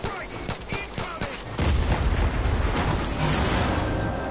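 Gunfire from Far Cry 5 cracks out in a rapid string of separate shots, then swells into a heavier, denser roar with a booming, blast-like layer that stays loud to the end.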